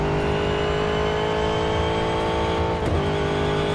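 An Aston Martin Vantage engine roars at full throttle in Real Racing 3, a loud, sustained high-revving drone that holds steady, with a brief shift or blip near the end.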